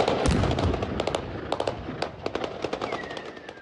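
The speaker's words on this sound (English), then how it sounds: "With gunfire and loud explosions, at least 4 people were reported hurt" Rapid gunfire and blasts used against protesters in a Russian-controlled town in central Ukraine, a dense burst of cracks and booms followed by scattered sharp shots, loud and close.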